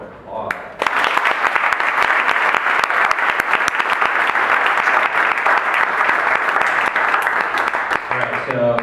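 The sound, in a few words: audience applause for a panel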